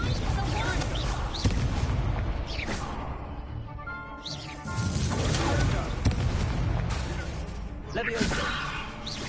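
Confringo fire spell blasts in the Hogwarts Legacy video game, repeated heavy booming bursts every couple of seconds amid a thick, noisy battle mix, with voices talking throughout.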